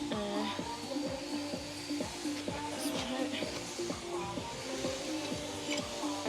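A sewing machine stitching a pinned bag, running in a fast, regular mechanical rhythm of repeated needle strokes at moderate, close volume.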